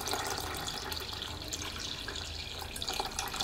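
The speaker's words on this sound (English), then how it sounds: "show how the finished jug pours" Water pours steadily from a ceramic jug spout in a continuous splashing stream, close and fairly loud throughout.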